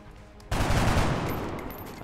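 A soldier firing a weapon in XCOM Long War, one abrupt loud burst of automatic fire that rings on and slowly fades, with no talk.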